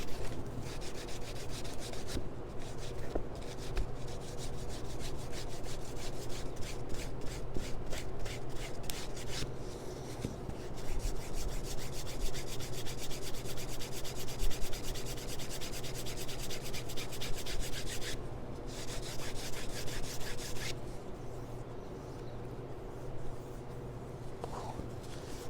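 Canvas cloth rubs briskly over a leather book cover in rapid back-and-forth strokes, a close, continuous scuffing that pauses briefly a couple of times before resuming.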